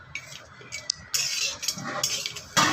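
Whole biryani spices frying in a wok, with scraping and metallic clinks of a utensil stirring against the pan in irregular bursts over a soft sizzle, close and fairly loud.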